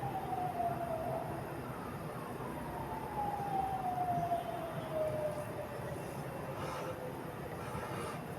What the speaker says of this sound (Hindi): ख़ास तौर पे एम्बुलेंसेस यहाँ से बहुत ज़्यादा गुज़रती हैं।